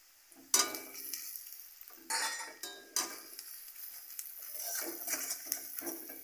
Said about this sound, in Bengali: এবার দিয়ে দিচ্ছি ঝাল লঙ্কার গুঁড়ো, ধনের গুঁড়ো আর জিরের গুঁড়ো।